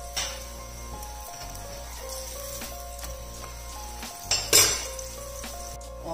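Layered lachha paratha fries in ghee in a pan with a steady sizzle, while a utensil clinks and scrapes against the metal pan every so often, including a louder burst of scraping near the end.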